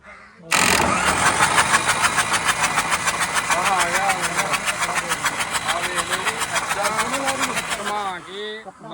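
A tractor engine in a village workshop fires up abruptly and runs loud and close with a rapid, throbbing beat. Voices speak over it near the end as the engine drops away.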